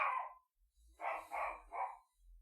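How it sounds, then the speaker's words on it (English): A dog barks nearby: one bark, a short pause, then three quick barks in a row, with no other sound around them. "our dog is named after Norman Bates"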